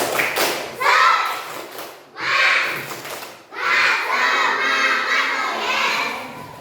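A class of third-grade children claps in rhythm and shouts together in loud bursts, with short pauses between rounds of chanting.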